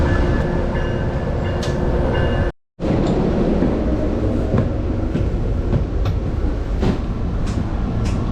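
Steady rumble of a moving train in Boston with rhythmic clacks and rattles throughout, briefly cutting out for a moment before the loud interior noise resumes.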